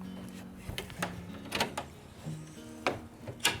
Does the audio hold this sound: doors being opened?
yes